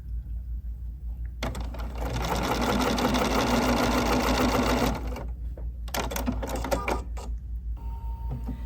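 A sewing machine stitches a pinned quilt block in one steady, fairly close whirring run of about three and a half seconds, followed by quieter clicks and fabric handling.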